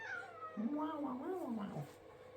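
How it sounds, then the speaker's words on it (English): A cat meows loudly and close by, a drawn-out wavering cry lasting over a second, with a faint background of indoor room noise. "Jump scared by a cat."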